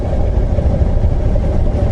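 A Suzuki V-Strom 1000 Mk 1 motorcycle engine running steadily at 4,000 RPM, giving a continuous loud, close, low rumbling drone with no talking.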